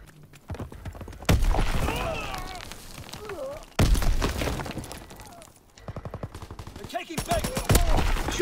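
Rapid gunfire bursts in the Call of Duty WWII multiplayer game come in three loud, dense volleys separated by brief pauses, with shouted voices and effects mixed in.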